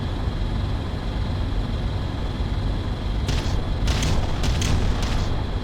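Artillery barrage in the real-time strategy game Ground Control: a dense, steady roar with sharp bright blasts breaking through in the second half, loud and continuous with no voices.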